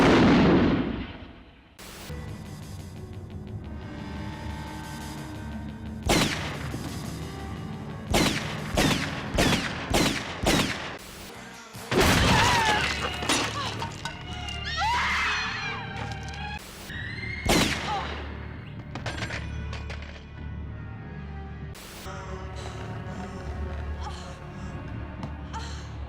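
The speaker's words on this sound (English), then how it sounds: "One of my favorite scenes is the shootout in the police station" A loud 1980s film shootout inside a police station, with volleys of gunfire, rapid bursts and heavy blasts cracking out in uneven clusters over a tense musical bed, with brief gasps and shouts.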